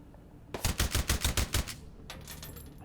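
Rapid burst of about nine gunshots in a video game sniping encounter, sharp evenly spaced cracks lasting about a second, followed by a fainter scattered volley a moment later.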